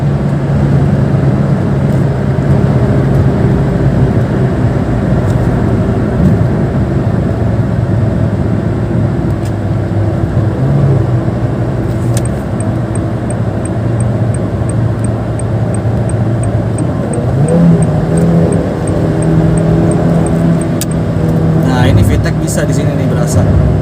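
Honda Brio CBU 1.3 with a DCT, driven on a toll road, its engine droning loudly and rising in pitch through the gears with a shift-like step near the end, under road and wind noise.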